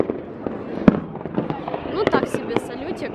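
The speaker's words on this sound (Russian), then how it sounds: "Так, мы услышали звук, и тут где-то, по идее, салютики." Small fireworks pop outdoors at night, with one sharp bang near the start and several scattered lighter cracks afterward, all under a steady background murmur with people talking.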